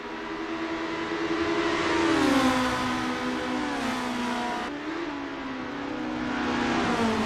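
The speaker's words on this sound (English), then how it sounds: "The roaring engines are echoing Richard Rossier's battle cry." Formula racing cars in Assetto Corsa at the Mont Tremblant circuit: a continuous, high-pitched engine drone whose pitch climbs and drops as the cars shift and accelerate, moderately loud with no talk.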